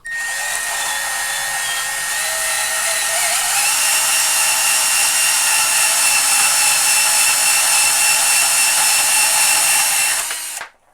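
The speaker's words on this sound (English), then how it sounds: "We'll lop off the tip of a stainless steel bolt." Steady high-pitched whine of a Proxxon FF230 milling machine cutting the tip off a 3/8-inch stainless steel bolt, loud and unbroken for about ten seconds, then cutting off abruptly.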